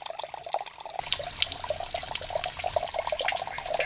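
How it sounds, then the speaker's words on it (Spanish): Water trickles steadily from a small natural spring, a thin stream splashing and gurgling nearby without pause, with no voices heard. "Por lo menos en el verano aquí venimos a traer agua de este chorrito."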